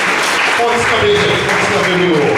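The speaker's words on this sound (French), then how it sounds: "Applaudissez, s'il vous plaît." Audience clapping at a children's event ceremony, a loud continuous wash of claps with a voice and a faint tonal sound running over it.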